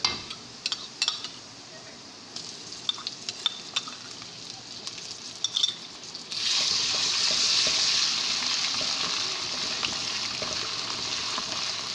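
Soft clinks and stirring in a pan of roasted spices, then a sudden loud, sustained sizzle as garlic-ginger paste hits hot oil and keeps frying.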